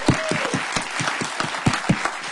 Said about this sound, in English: I want to give them a round of applause for that.